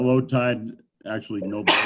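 A single sneeze bursts out at the end of a short stretch of conversation during a conservation commission meeting about boats in a tidal creek channel.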